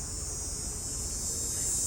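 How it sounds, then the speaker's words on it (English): A continuous high-pitched cicada drone buzzes steadily throughout in hot weather in an urban garden, loud and unbroken over a low background rumble. "you can hear the cicadas this time, especially at lunchtime"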